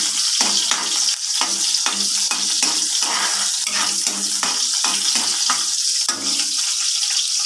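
A string bean omelette (tortang sitaw) fries in a pan with a steady, close sizzle and repeated stirring or scraping strokes, and no one talks.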